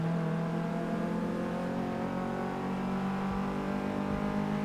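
A front-wheel-drive Renault hatchback's engine drones at steady high revs while racing in Forza Motorsport 6, a constant close buzzing hum with slight pitch shifts and no talk.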